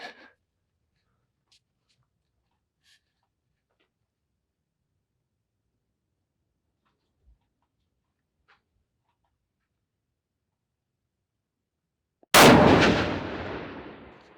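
A single loud 7mm PRC rifle shot cracks at a shooting range near the end, its report decaying over a couple of seconds after a long stretch of near silence with faint clicks.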